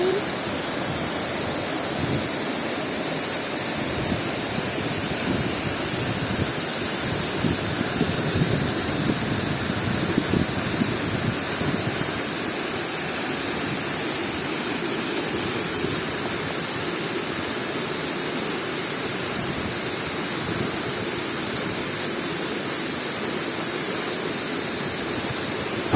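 A waterfall in a natural setting roars continuously and loudly, a steady broadband rush of falling water with no pauses and no voices.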